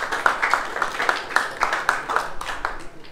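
A small audience claps for team C at an accounts quiz contest, brisk steady applause of a modest group of hands, fairly close, with a voice briefly audible underneath.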